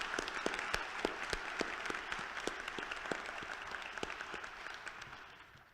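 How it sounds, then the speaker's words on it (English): An audience at an annual town meeting applauds the new fire chief, a sustained crowd clapping with distinct nearby claps standing out, fairly quiet overall and gently fading toward the end. "Please join me in applauding Fire Chief Rick Nelson."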